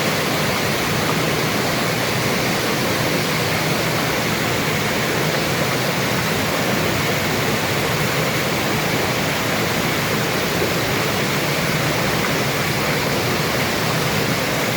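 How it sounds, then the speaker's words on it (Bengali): Clear water flowing at the end of a path beside a cave in Trabzon, Türkiye, a steady broadband rush that stays even and fairly loud throughout with no voices. "পানি বয়ে যেতে দেখতে আসলে অনেক ভালো লাগে, শব্দটাও শুনতে অনেক ভালো লাগে।"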